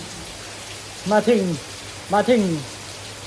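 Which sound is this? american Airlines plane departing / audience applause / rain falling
rain falling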